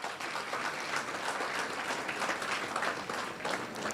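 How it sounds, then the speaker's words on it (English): Steady, dense applause from an audience at an award ceremony for a talent search exam, continuous clapping of many hands at moderate volume, fairly distant and even, with no talk over it. "So let's have a big round of applause for yourself."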